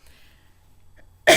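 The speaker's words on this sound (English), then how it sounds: "I have just a little tail end of a cough" A single abrupt, loud cough bursts out at the very end of an otherwise quiet stretch, close to the microphone.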